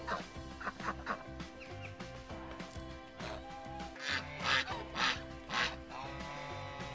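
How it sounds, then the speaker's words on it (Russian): Geese at a zoo honk and chatter in repeated nasal bursts, several loud calls in quick succession over a rhythmic background. "У тебя с тобой разговаривают гуси."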